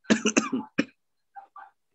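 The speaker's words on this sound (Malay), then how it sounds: "Ustaz masih batuk-batuk lagi" A preacher coughs during a mosque lecture, a rapid cluster of four harsh coughs, then one more, followed by two softer throat-clearing sounds, all close and alone.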